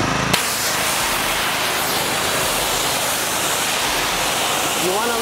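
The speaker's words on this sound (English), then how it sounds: "You don't want to spray too heavy water, like too much strong water on a really dusty surface, because it will actually scratch" A light water spray rinses a dusty car during a maintenance detail, a loud, steady hiss starting abruptly and holding close to the microphone, with a brief faint whistle near the end.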